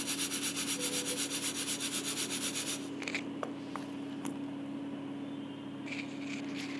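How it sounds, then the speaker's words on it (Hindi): Rice is shaken through a coarse-holed sieve, giving a rhythmic, close rubbing rasp that pulses steadily for about three seconds, then turns into scattered lighter scrapes and taps. "उसके अंदर चावलों को भरकर, थोड़े थोड़े चावल लेंगे, ज़्यादा नहीं लेंगे, और मैं उसको छानने लगी हूँ।"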